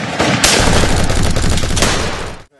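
An old-fashioned gun fires on a period film set, a loud sustained burst of rapid cracks lasting over two seconds before cutting to near silence, with no voices.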